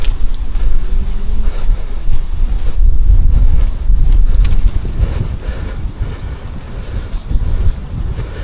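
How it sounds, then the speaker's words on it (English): Strong wind gusts buffet the microphone along a canal towpath in Sheffield, a loud continuous roar with low rumbling surges and no speech. "Getting to be a bit of a wind tunnel here again."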